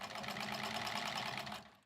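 A sewing machine stitches patchwork sashing pieces together for a quilt, running in one steady, continuous whir close by that fades out at the end, with no talking.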